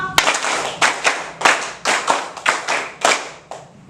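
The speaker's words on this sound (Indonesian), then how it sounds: "2 kali tepuk 5" A standing group does the Tepuk 5 rhythmic clap twice, sharp unison hand claps in a patterned beat, loud and close, with short bursts and brief gaps between them.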